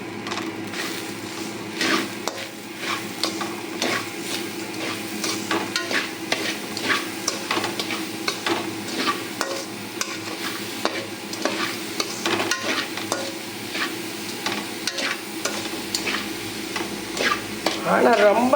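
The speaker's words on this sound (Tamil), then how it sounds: "இது இப்போ நான் கிண்டனத்தான் போதும், இதுக்கு மேலே வேணாம், செவக்கக்கூடாது தேங்காய்" Grated coconut and sugar are stirred in a pan, making a long run of steady scraping strokes over a soft sizzle, close and continuous with no voices.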